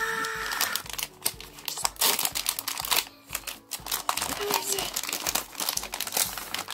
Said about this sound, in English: So I guess we're tearing it.